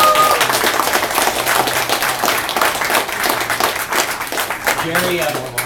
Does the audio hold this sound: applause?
yes